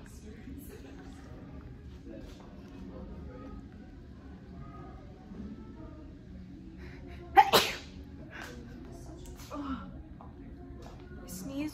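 A single sharp sneeze cuts in partway through, loud and close, over a steady background of voices and indoor noise, followed later by a smaller burst.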